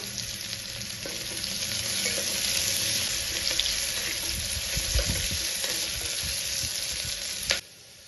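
Chopped onion frying in a pan for a mutton pepper fry, giving a steady close sizzle with occasional stirring scrapes throughout, stopping abruptly near the end.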